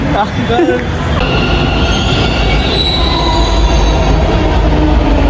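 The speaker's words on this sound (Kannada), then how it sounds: "ಮೆಟ್ರೋಲ್ಲಿ ಹೋಗ್ತಾ ಇದ್ದೀವಿ" A Bengaluru metro train runs loudly with a steady, heavy rumble and high wheel squeal throughout, heard from inside the carriage.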